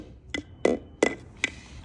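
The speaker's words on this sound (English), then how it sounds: "You tap it with your hammer." Hammer taps on a nail going into wood, four or five sharp, close knocks spaced roughly every half second, with light metallic ring and no talk over them.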